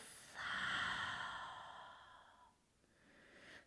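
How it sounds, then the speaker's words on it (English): A deep, long breath during a yoga class forward fold, a slow, soft inhalation and exhalation heard close and quiet, alone without talk. "Deep, long breath."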